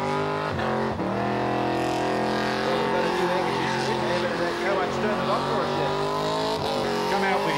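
Car doing a burnout at Summernats 14 burnout eliminations, a loud, continuous engine roar with shifting revs and tyre squeal, sustained and close throughout.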